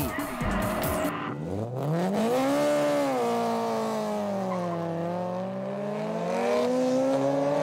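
A Toyota Corolla AE86 and a Nissan S15 drift at a 2005 Formula Drift event in Houston, with long, loud wavering tire squeals over straining engines, and a commentator talking underneath.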